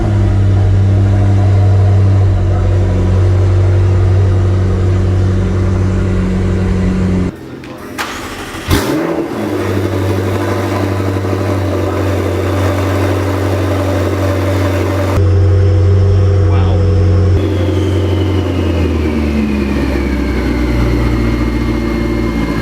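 A 2016 McLaren 650S Spider fires up with a sharp crank and bark, settles into a loud, low idle, then blips through short revs, close and dominant throughout.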